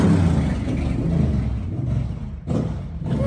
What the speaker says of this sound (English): there's a motorcycle outside